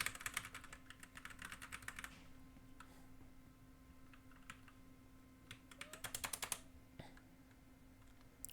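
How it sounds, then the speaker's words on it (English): Clicking of a computer keyboard during a Pokemon Vanguard gaming session, quick bursts of rapid keystrokes near the start and again later, with isolated single clicks between, faint and close under a steady background hum. "there's just the clickety-clack of the keyboard in the background."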